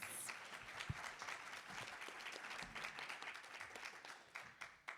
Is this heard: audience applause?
yes